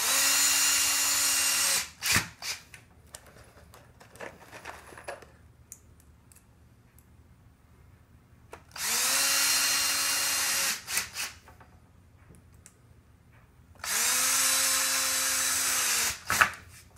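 A power drill drives screws into a wooden bow rack in three loud, steady whirring bursts of about two seconds each, with quiet pauses and small clicks and handling noises between them.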